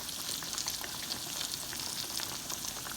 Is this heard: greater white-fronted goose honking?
no